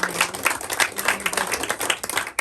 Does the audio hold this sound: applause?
yes